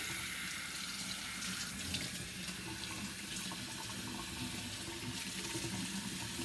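A sink faucet runs steadily while bath water is readied for an 8-week-old puppy, a continuous close hiss of flowing water with no voices.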